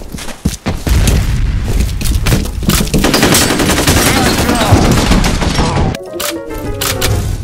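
Video game combat with rapid machine-gun bursts and a heavy grenade blast, loud and dense for several seconds before the firing breaks off and the explosion's rumble trails away.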